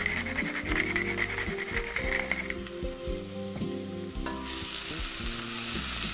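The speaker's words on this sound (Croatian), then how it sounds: "i kratko pržimo na srednje jakoj vatri" Chopped onion and pressed garlic, salted, fry in hot oil in a pan over medium-high heat. A loud, continuous sizzle runs throughout, broken by scraping stirs, and the hiss brightens toward the end; no talking.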